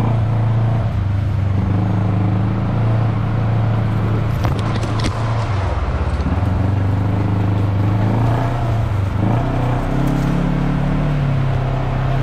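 A 2016 Arctic Cat Wildcat off-road vehicle drives steady and loud, its engine note rising and falling as it climbs over rough ground, with some clattering of the chassis partway through.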